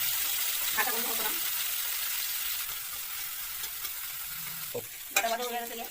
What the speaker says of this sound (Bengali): ডাটাটা একটু ভাজা ভাজা করি